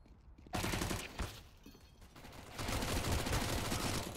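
SMG fire in a Counter-Strike match on the Overpass map: a short burst, then a pause, then a longer stretch of rapid, dense shooting that stays steady and fairly loud.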